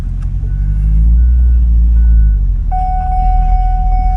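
A 2008 Chevrolet Corvette C6 with the LS3 V8 is driven, its low engine rumble loud and close, swelling briefly before a steady warning chime sets in over the drone.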